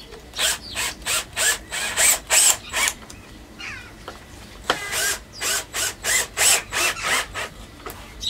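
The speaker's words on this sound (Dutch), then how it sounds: "Dus dan schroef ik hem vast." A power screwdriver drives screws through a formwork board for a utility-room foundation, in a steady run of short whirring bursts, a pause, then another quick series, loud and close with no talking.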